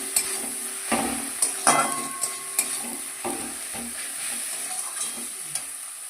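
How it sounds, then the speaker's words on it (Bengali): Tomato and onion frying with salt and turmeric, stirred in a pan: a steady sizzle under intermittent spatula scrapes and metallic clinks against the pan, close and clear. "এবার এইটাকে ভালো করে একটু টমেটো আর পেঁয়াজটাকে নাড়িয়ে নেবো"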